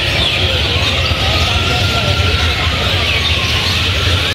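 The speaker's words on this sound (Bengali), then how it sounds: "এখানে কি পরিমাণ পাখির আওয়াজ" A dense chorus of many birds calls and chirps together at dusk, steady and loud throughout, forming a continuous wash of overlapping calls with low rumble beneath.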